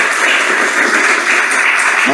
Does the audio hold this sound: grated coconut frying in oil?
no